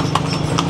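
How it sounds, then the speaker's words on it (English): A horse and cart passing along Jalan Benesari in Kuta, Bali at night, hooves clip-clopping in a quick regular rhythm over steady street background noise, close and loud. "oh, we have a horse and cart going past now"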